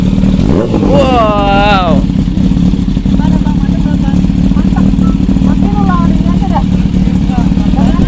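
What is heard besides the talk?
Kawasaki H2 and ZX25R motorcycles revving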